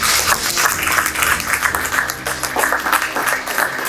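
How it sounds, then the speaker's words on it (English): An audience gives a round of applause for Governor Obiano at a gathering during his New Jersey tour, a loud, close, dense burst of many hands clapping that holds throughout, with faint murmurs of voices mixed into the crowd. "Please give him a round of applause."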